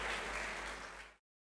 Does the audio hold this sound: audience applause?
yes